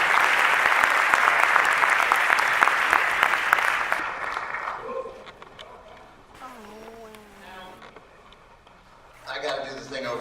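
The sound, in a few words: audience applause for Ben Mankiewicz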